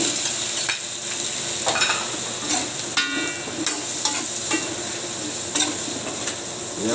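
Squash stir-fried in a pan, with a steady crackling sizzle and repeated scraping clinks of a utensil stirring against the pan, close and continuous with no talking.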